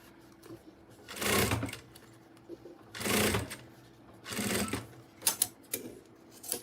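A sewing machine stitching a folded, pressed binding strip for a mini Boston bag, running in three close bursts of a few seconds each, separated by quiet pauses, with light clicks near the end.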